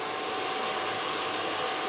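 A blow dryer runs steadily during a hair styling session, a loud, continuous whooshing roar that stays even and close throughout with no talk.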